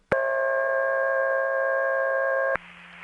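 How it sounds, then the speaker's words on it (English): Special telephone dial tone on a 660 exchange, a loud steady multi-tone hum that starts and stops with sharp clicks, followed by a quieter hiss and low hum. "when I first heard that special dial tone on Neil's 660"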